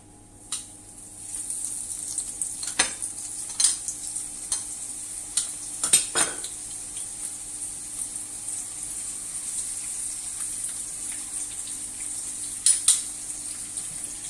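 Flour-coated onion frying in hot oil; a soft, steady sizzle runs throughout, punctuated by sharp clinks and scrapes of a utensil against the pan, close and quiet, with no voices.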